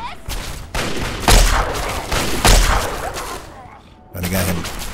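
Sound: gunfire in Fallout 3 video game

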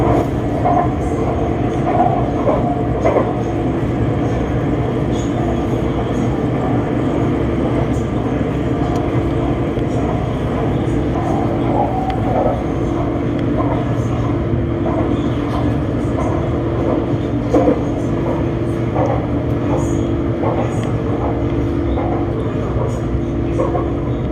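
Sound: BTS Skytrain electric train riding between stations

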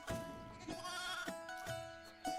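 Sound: lamb bleating

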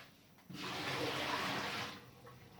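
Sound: water being changed

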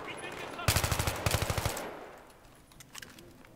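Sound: gunfire in Battlefield 3 video game

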